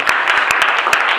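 A church congregation bursts into steady, dense applause acclaiming the Lord, with rapid, loud, close clapping throughout.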